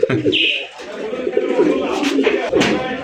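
Fancy pigeons at a farm sale, with soft cooing and bird calls near at hand, mixed with ongoing talk throughout.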